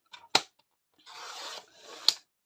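Scissors snipping and sliding through fabric cut to size for a sewn pouch, with two sharp close snips framing a longer rasping cut, heard alone.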